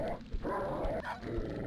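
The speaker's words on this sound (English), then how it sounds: "It seems to be a Rottweiler infested room." Rottweiler dogs in a Quake map bark and growl up close in short rough bursts, repeating several times over a steady game background.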